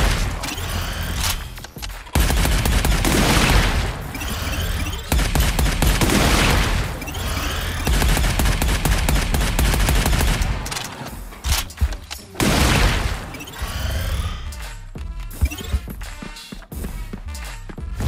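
Rapid gunfire and heavy surge bolt blasts from the Arcadegeddon video game on PS5 pound out in dense bursts, loud and continuous, with brief gaps and clanking impacts toward the end.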